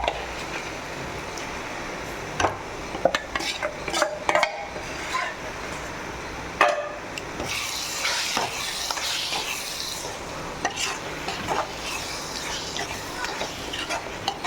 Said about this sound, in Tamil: இந்த சிக்கன் சிக்கனோட லிவர் ஈரலையும் நம்ம இதில் போட்டு பிரட்டிக்கலாம்